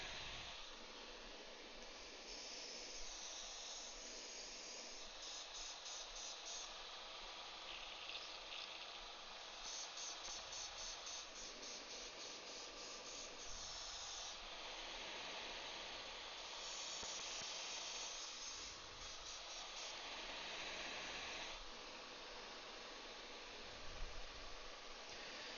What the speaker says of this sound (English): So let's just get a squirt of thinner through there.